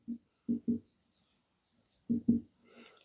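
Chalk or marker writing on a board during a Class 6 maths lesson, a few short scratchy strokes in two quick bursts, close and fairly quiet.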